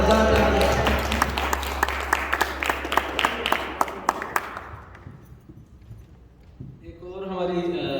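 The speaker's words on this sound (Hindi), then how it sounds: "जोरदार तालियां।" Congregation applause at a Christmas Day church celebration, a dense burst of clapping with a low hum underneath that fades out after about five seconds, followed by a speaking voice.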